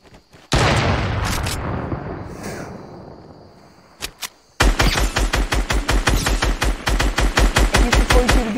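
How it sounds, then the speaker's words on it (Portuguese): In a video game, a single heavy Barrett sniper rifle shot booms and decays, a couple of sharp cracks follow, then a rapid string of loud shots fires in quick succession. "Esse foi o tiro de Barrett. É a sniper mais pesada do jogo."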